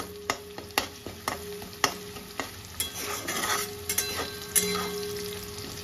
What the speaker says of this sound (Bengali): পেঁয়াজটা কিন্তু লাল করে ভাজা হবে, সিদ্ধ হবে না